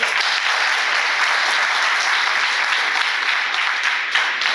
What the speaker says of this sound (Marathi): जरा एकदा जोरात टाळ्या वाजवा